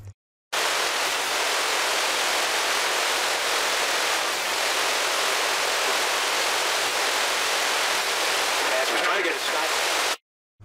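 Broadband hiss of FM radio static from an RTL2832U software-defined radio while scanning, a loud, even wash of noise that starts abruptly, runs steady for about ten seconds, then cuts off.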